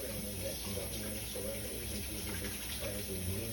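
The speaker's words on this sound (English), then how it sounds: "Matter of fact, I'm going to wash them again." Running tap water in a home kitchen sink while hands are washed: a steady, close hiss of flowing water with faint splashing, continuous throughout.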